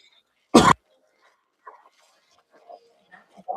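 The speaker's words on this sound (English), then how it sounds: "hopefully I got rid of that cough" A single sharp cough bursts out close and loud, followed by faint scattered murmurs and small background noises in an otherwise quiet room.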